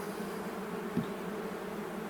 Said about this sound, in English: Very gentle bees these.